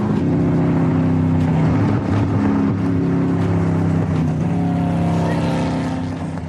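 A Gumpert Apollo sports car drives hard along a 1.5-mile runway, its loud close engine roaring steadily with rising harmonic tones before easing off slightly at the end.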